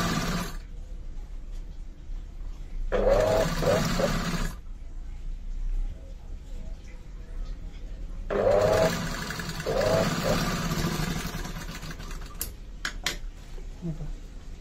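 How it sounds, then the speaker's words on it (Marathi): A sewing machine runs stitch setting 5 as a temporary seam along the folded strip of a two-piece katori blouse, close and whirring in two bursts of a few seconds each, with quieter pauses between them. "आता मी 5 नंबरची शिलाई टाकून घेते."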